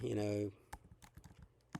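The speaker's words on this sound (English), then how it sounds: "enter whatever you want with the keyboard" Computer keyboard typing in a drawing program on a Linux or Mac system, a few scattered soft key clicks following a brief tonal sound at the start, quiet and close.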